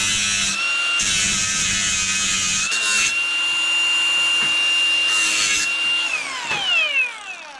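Cordless grinder with a grinding disc dressing the cut edges of a metal rear mudguard, a steady high whine and rasping grind that runs almost without pause, briefly lifting and dropping, then spinning down at the end.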